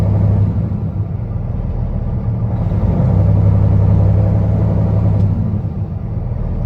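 A Caterpillar engine in a 2015 Peterbilt 389 daycab glider with about 17,000 hours runs steadily, a deep close rumble that rises gently through the RPMs and stays loud and even throughout.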